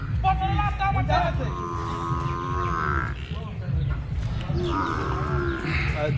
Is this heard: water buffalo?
yes